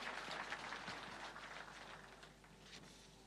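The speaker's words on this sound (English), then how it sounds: "One more round of applause for them, please." Audience applause at a Kenyan government awards ceremony for agencies using e-citizen, a steady faint wash of many hands clapping that continues throughout without any talk.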